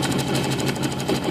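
A sewing machine stitching a zigzag seam with a folding presser foot, a fast steady mechanical whirring with rapid rhythmic needle pulses, close and continuous through the short stretch, no voices.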